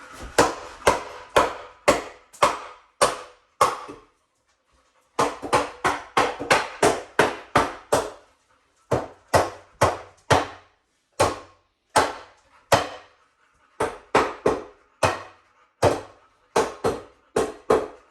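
Repeated sharp hammer blows on wood while building a 150-gallon fish tank stand, struck in quick bursts of several hits with brief pauses between groups, loud and close.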